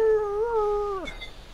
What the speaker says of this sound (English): It's more like howling than barking